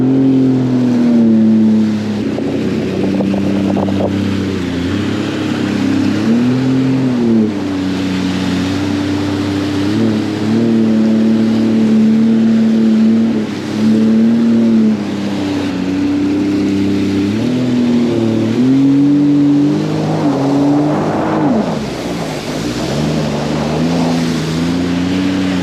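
A Sea-Doo FishPro Sport 170 jet ski engine drones loudly up close, its pitch rising and falling as the throttle is worked through turns, with water splashing beneath the steady motor.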